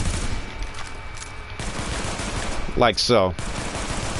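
Pistol fire in The Division video game after a quick weapon swap: brief, sharp gunshots, with someone speaking a few words partway through.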